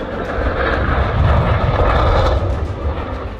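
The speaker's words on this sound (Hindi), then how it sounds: "रनवे पर तेज रफ्तार से दौड़ता विमान" A passenger airplane racing at high speed down a runway in South Korea, a loud, steady engine roar with heavy low rumble that swells slightly in the middle, with no voices.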